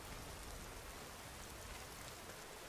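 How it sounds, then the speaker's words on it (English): Rain falls steadily outside a lakeside cabin, a faint, even wash of patter with no breaks and no voices. "Of course, it has to be raining."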